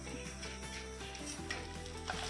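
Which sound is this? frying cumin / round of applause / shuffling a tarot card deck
frying cumin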